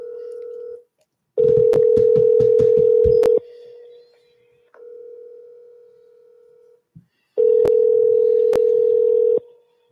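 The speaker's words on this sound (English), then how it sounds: "Can you hear the other 2 phones ringing?" Telephone line tones on a call to scammers, with two other phones ringing: a steady tone, then long loud buzzing ringback bursts broken by sharp clicks, with quieter tone stretches and silent gaps between them.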